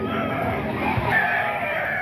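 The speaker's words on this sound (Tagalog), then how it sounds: "Yan, napakaraming manok na naman mga idol." A crowd of chickens and roosters at a busy market in a grotto makes constant overlapping clucking and crowing, loud and dense, with general bustle around them.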